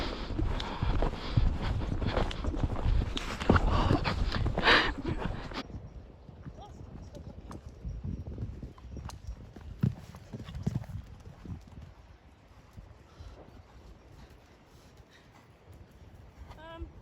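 Horse hooves clip-clopping at a showjumping outing, a steady rhythmic beat that is loud and close for the first several seconds and then fades to fainter, sparser footfalls, with a rider speaking intermittently.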